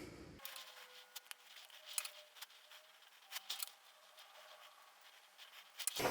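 Quiet, close-up snipping of scissors trimming a hair topper hairpiece, a series of short crisp cuts at an uneven pace in an otherwise hushed room.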